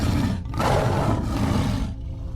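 A loud, sustained roar, rough and broadband, bursts in after a brief pause and holds for nearly two seconds before fading, with no voices present.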